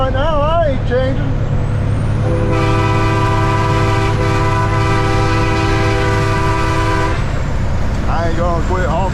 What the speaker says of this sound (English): I ain't gonna quit honking my horn.